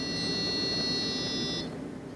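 A Pixhawk flight controller on a model aircraft emits a steady high-pitched beep after being armed, held continuously for about a second and a half over a constant mechanical hum.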